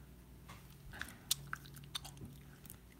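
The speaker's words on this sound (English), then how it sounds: "I'm chewing gum. I'll stop chewing gum." Gum is chewed close to the mic, with soft, irregular wet clicks and smacks, a few sharper bites standing out over quiet room noise and no talking.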